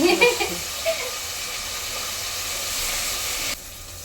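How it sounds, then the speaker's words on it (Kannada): Rice being washed in water by hand as spices fry in a home kitchen for a first-attempt biryani, a steady running-water hiss lasting throughout, with a few brief clatters near the start and a quieter close. "ಅದು ಫ್ರೈ ಆಗೋಷ್ಟು ನಾನು ಅಕ್ಕಿ ತೊಳ್ತೀನಿ."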